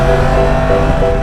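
A Yamaha MT-10 roadster motorcycle engine revs up as the throttle is reopened, a loud, close, sustained engine roar with a steady pitch and no voices.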